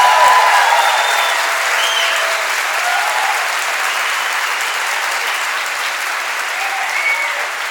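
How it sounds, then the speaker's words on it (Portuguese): Loud, sustained audience applause fills a church, dense and continuous from start to finish with a murmur of crowd voices mixed in. "Você dá um glória e uma salva de palmas bem alta."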